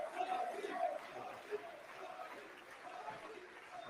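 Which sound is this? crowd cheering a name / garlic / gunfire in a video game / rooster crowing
crowd cheering a name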